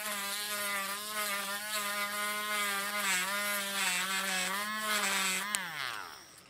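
A battery-operated Ohuhu electric eraser whirs steadily with a close, even motor hum while rubbing on paper, then winds down abruptly near the end.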